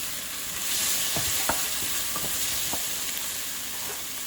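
Chopped green chili and onions frying in oil, stirred with a utensil: steady close sizzle under a cluster of scraping knocks in the middle, then quieter stirring.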